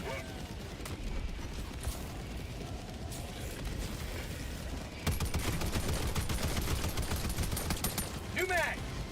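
A heavy machine gun in Helldivers 2 fires long, loud, rapid bursts that grow denser and heavier in the second half, under a dense wash of battle noise, while a player talks over the gunfire.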